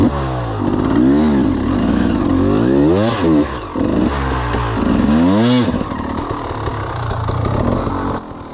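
Off-road race motorcycle in a hard enduro race revs in repeated rising and falling bursts, loud and close, with clattering and scraping as it works over rough terrain.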